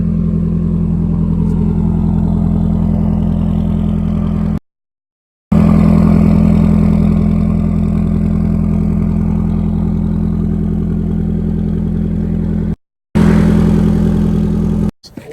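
A Nissan 240SX fitted with a custom blastpipe exhaust drones at a steady idle, loud and close, its low buzzing tone cut by two brief silent gaps.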